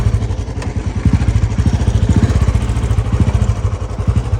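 A Royal Enfield Bullet motorcycle engine thumps close by in a steady, even pulsing beat, loud and alone with no talk.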